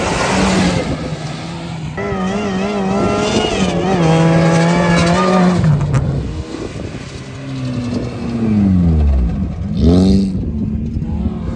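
Off-road trophy cars racing on a new dirt track in a dusty Krasnodar mud-masters event, engines revving and rising in pitch as several vehicles pass, with a loud swell near the end.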